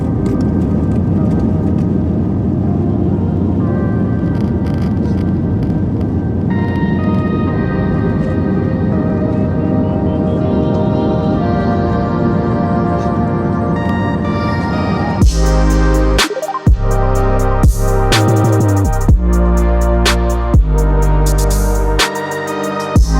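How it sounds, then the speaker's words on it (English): An Air India A321 airliner rolls down the runway for takeoff, its engines a loud, steady roar heard from inside the cabin, with a rising whine; the sound then cuts abruptly to something different. "We eventually made our way out to the runway and prepared for the first takeoff."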